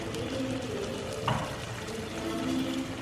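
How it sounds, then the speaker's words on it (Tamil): Tomato and beetroot pasta sauce sizzles gently in oil in a pan, a soft steady bubbling with a brief clink partway through. "ஓகே, ஸோ இப்போ நம்ம சாஸ் வந்து ஒரு 5 மினிட்ஸ் குக் ஆகிட்டுருக்கு"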